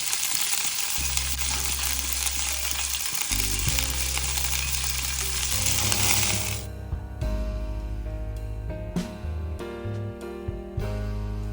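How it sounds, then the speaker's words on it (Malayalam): Cashews and raisins fry in hot ghee for a Malabari payasam, a loud, dense sizzle for about six seconds before it gives way to ringing tonal sounds with sharp taps. "കുറച്ച് നെയ്യ് ചൂടാക്കുക അതിൽ അണ്ടിപ്പരിപ്പ് മുന്തിരി ഇട്ട് വറക്കുക"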